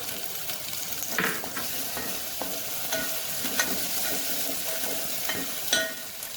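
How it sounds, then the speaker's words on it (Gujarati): Curry leaves dropped into a hot pan of oil and garlic paste for a dhaba-style dal fry sizzle and crackle steadily, with occasional sharp pops and a few light scrapes of stirring close by. "ત્યારબાદ મીઠા લીમડાના પાન આપણે એડ કરી દઈશું."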